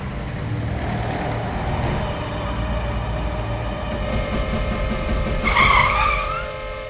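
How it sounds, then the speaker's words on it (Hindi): A car approaches on a road through the woods, its engine rising to a steady roar before tyres squeal briefly in a skid near the end. "यार दिवाकर, ये तो प्रेम की गाड़ी लगती है।"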